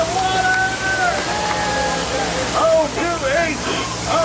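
The waterfall on the Disneyland Jungle Cruise ride gives a constant loud rushing hiss. A skipper talks over it on the boat throughout.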